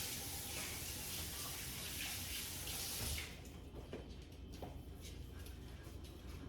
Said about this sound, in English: Let me rinse my hands, please.